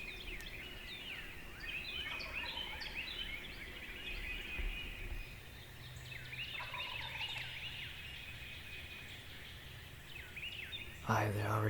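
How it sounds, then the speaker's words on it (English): A wild turkey gobbles faintly far off across a creek at daybreak, its calls mixed into a chorus of waking songbirds, with soft whispering nearby. "I've heard a couple very distant gobbles off across the creek on private."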